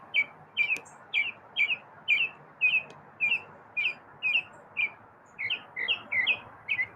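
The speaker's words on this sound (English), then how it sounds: "it seems like a happy chirp" A single bird chirps outdoors in a steady series of short, bright notes about every half second, moderately close, over a low background murmur with no talk.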